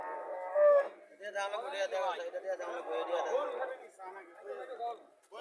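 A native cow lets out a long, drawn-out moo while people chat nearby at a cattle market in Cumilla.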